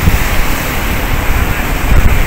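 Strong ocean surf rolling onto a sandy beach on Tenerife, a loud, steady roar of breaking waves with wind buffeting the microphone, no voices.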